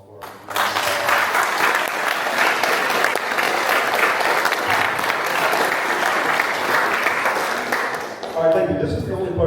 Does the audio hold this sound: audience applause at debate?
yes